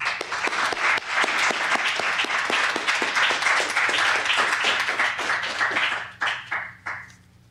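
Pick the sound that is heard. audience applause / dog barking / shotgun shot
audience applause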